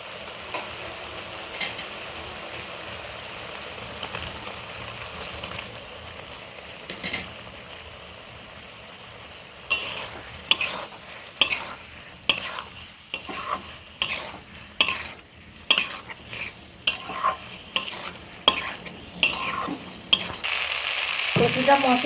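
Boiled taro stirred and fried in a spice paste for a sea fish curry with aubergine, a low sizzle at first, then a run of loud, rhythmic scraping and clanking strokes of a spoon against the pan.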